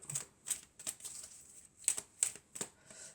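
Tarot cards slid and snapped off a deck one after another in a quiet room, a string of crisp close papery flicks and taps in an uneven rhythm, with no talking.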